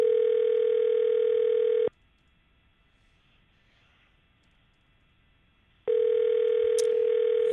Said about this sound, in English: calling Michelle. And hopefully she picks up on a couple of rings here